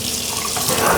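Cool tap water runs into a sink to rinse mushrooms, a steady broad hissing splash, close and loud, with the flow brightening slightly near the end.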